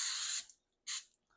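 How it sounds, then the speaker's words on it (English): Vegetable cooking spray hisses into a parchment-lined loaf pan in two short bursts, the first about half a second long, then a brief pause and a shorter second spritz, close and crisp. "and I'm just going to give that a quick spray."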